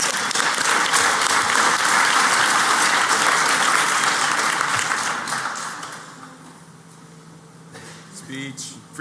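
Loud applause from a hacker conference audience at the Pwnie Awards, continuous clapping that fades after about five seconds into room hum, with a few scattered sounds near the end.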